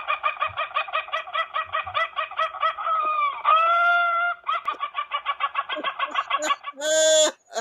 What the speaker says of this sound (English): That's a real laughing sound from a rooster.